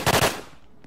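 Machine gun fire in the Roblox game Apocalypse Rising rattles off as a quick burst of about four sharp shots, close and loud, then fades into a short decaying echo.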